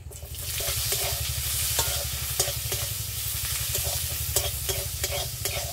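Dried chillies, bay leaves, five-spice and chopped onion frying in hot oil give a dense, continuous sizzle, punctuated by quick, regular stirring strokes close by, with no speech.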